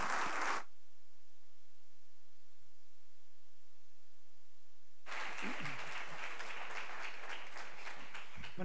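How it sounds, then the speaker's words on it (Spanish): Audience applause for the speakers at a business conference, a brief burst of clapping at the very start, then near silence with faint hiss, then a fuller round of clapping that rises again and runs to the end. "yo creo que se merece un aplauso"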